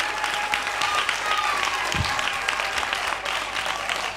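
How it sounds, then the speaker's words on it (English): An audience at a national junior spelling competition applauds the finalists, a sustained wash of clapping from a large crowd filling the hall. "a resounding applause for every finalist here"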